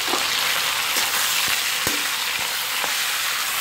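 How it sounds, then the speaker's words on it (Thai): Fatty three-layer pork belly renders in a pan with a loud, continuous sizzle and crackle, broken by a few soft knocks of a utensil. "แล้วก็ตามด้วยหมู3ชั้นนะคะเอาที่มันๆลงไปเคี่ยวก่อนนะคะ"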